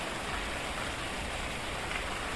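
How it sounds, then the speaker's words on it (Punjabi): Very heavy rain falling hard, a dense unbroken roar of downpour that sounds steady and even, with no voices heard. "ਬਹੁਤ ਜ਼ਿਆਦਾ ਮੀਂਹ ਆ ਬਹੁਤ ਜ਼ਿਆਦਾ ਤੇਜ਼ ਆ"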